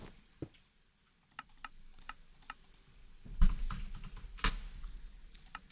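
Keystrokes on a computer keyboard, sparse individual clicks followed by a denser burst of typing and a couple of sharper key hits, close and clear with no talking.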